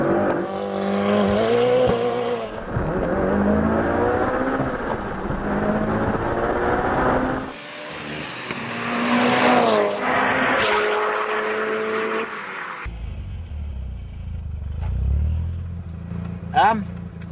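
A tuned Mitsubishi Evo makes a quarter-mile test run in the rain up a hill, with a loud engine climbing through repeated accelerations and gear changes. It fades into quieter road noise later, and someone talks over parts of it.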